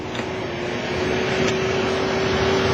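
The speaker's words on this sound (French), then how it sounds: "je félicite dans le fond la compagnie Rowenta qui produit des balayeuses qui sont moins bruyantes" A Rowenta low-noise vacuum cleaner runs steadily, a continuous close whooshing hum with a faint tonal whine and no breaks, loud and alone.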